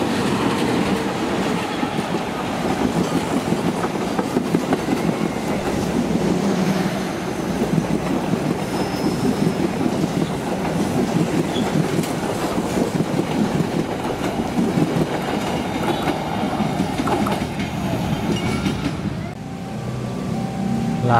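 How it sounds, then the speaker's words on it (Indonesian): The Bangunkarta 122C passenger train rolls past on Indonesian rails with a steady, loud rumble and rhythmic clickety-clack of wheels over joints, continuous and close throughout before easing slightly at the end. "Lalu ini kereta api Bangunkarta 122C."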